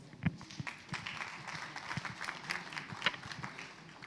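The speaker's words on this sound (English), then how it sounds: "Please, let's give him a warm applause." Quiet applause rises from the audience at a Nigeria-EU health investment forum as the French ambassador is welcomed, soft scattered claps heard from a distance.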